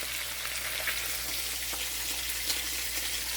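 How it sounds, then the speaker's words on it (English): Steady, soft sizzling and crackling of fish frying in hot olive oil over reduced heat, a continuous hiss with faint pops. "I reduce the flame or the temperature in frying"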